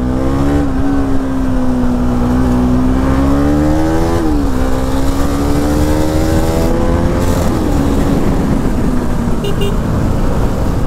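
A Bajaj NS200 motorcycle with a modified stock exhaust, loud and close, its engine note climbing through rising revs and gear changes, then easing off toward a steady drone.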